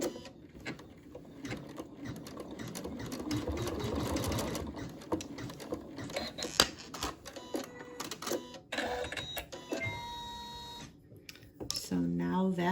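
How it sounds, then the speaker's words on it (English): An embroidery-style sewing machine stitches a seam between two tack points on a pincushion project, a steady mechanical chatter that starts and stops, with a voice talking over it throughout. "let it stitch the seam in between the two tacks"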